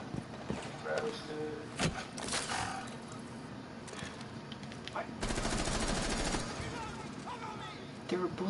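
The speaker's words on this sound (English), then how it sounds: "There are bullets flying this way." Gunfire in Rainbow Six Siege, rapid automatic bursts and single shots scattered through the clip, with one sustained burst in the middle, heard alongside someone talking over the game.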